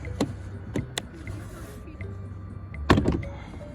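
Sharp plastic pops and clunks as a 2019 Acura RDX door panel is pried loose, a few separate cracks spread over several seconds with a low background hum.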